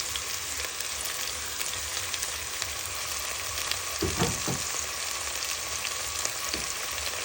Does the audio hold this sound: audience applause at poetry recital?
no